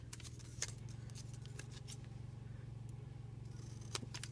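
Scissors trim a small strip of vellum, giving a few quick crisp snips over a faint steady hum, close and quiet.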